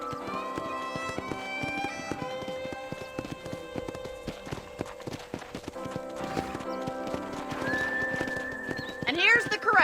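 Horse hooves clip-clopping in Red Dead Redemption, a steady run of hoof strikes with a whinny near the end, heard under ongoing talk and some music.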